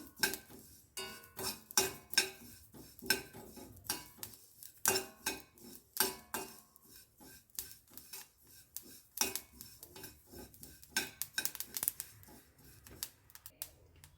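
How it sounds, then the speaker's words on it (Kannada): Black and white sesame seeds dry-roasting in a pan, a busy scatter of sharp crackles and pops in irregular bursts, close and quiet with no voices. "ನೋಡಿ ಎಲ್ಲೆಲ್ಲ ಚಟಪಟ ಅಂತ ಸೌಂಡ್ ಬರ್ತಾ ಇದೆ"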